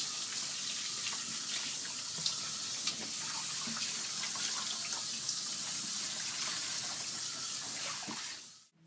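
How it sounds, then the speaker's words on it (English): Warm water runs steadily into a pet grooming tub, a continuous close hissing spray that cuts off abruptly at the end, with no talking. "Our tub's equipped with warm water, so it'll be able to keep the pet comfortable year-round."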